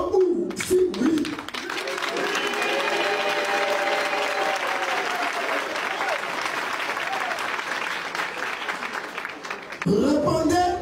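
An assembly bursts into loud applause and cheering acclamation, sustained for several seconds, with voices speaking briefly at the start and end.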